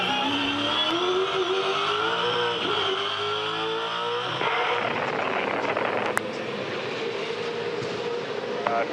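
2011 V8 Supercars race cars at the Hamilton 400 street circuit, loud engine roar with rising and falling revs as cars pass close by, a sharp gear-change drop midway, then a dense sustained racing din.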